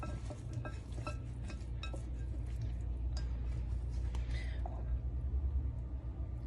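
Roasted potatoes being stirred and mixed with generous Parmesan cheese in a pan, with close, continuous scraping and clinking of a utensil against the cookware and a low steady background rumble.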